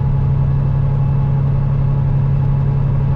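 A farmer's tractor engine runs as a loud, steady low-pitched drone with a strong rumbling hum, holding an even level throughout with no clear rise in revs and no voices.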